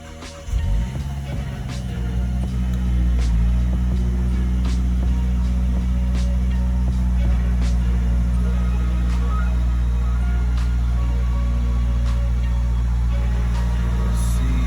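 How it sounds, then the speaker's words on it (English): A Mazdaspeed 3's engine cranks and fires right after a new Corksport high-pressure fuel pump is installed, then settles into a loud, steady idle hum that holds for the rest of the clip. "Now let's start the car and see what happens."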